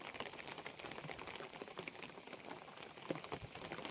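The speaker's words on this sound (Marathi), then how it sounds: "पाऊस चालू आहे मित्रांनो" Steady rain falling outdoors, a soft, fairly faint continuous patter with scattered drops, no voices.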